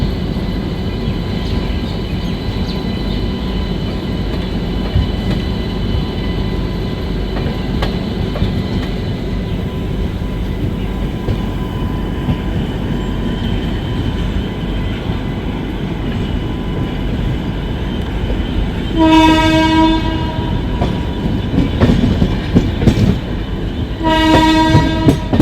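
The 22202 Sealdah Duronto Express running, heard from inside a 1AC coach: a continuous loud rumble and rattle of wheels on track, with two bursts of the horn near the end.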